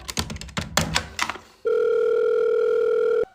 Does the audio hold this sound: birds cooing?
no